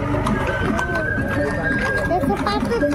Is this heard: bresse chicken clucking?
no